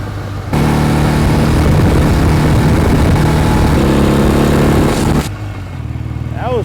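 A 1967 BSA Spitfire Mk III twin motorcycle roars loudly under hard acceleration on a ride, then the engine note drops off sharply as the throttle closes near the end.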